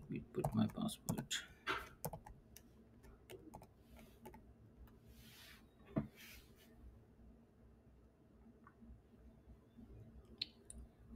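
Quick clicks of a computer keyboard as a password is typed, a brief burst of taps at the start followed by sparse, fainter keystrokes against a quiet room hum.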